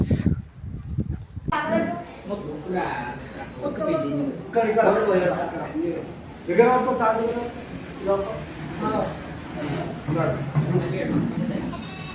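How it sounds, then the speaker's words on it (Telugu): A male goat bleats in a series of loud, wavering cries spaced every second or two near a temple during a Bonam festival, with people talking around it. "ఇదే మేకపోతు మావాడే"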